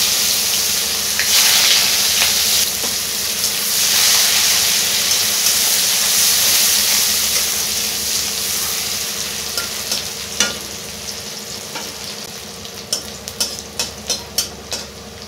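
Chopped onion sizzles loudly in hot oil left over from frying fish, the hiss steady and close before giving way to a run of clicking spoon taps on the pan near the end.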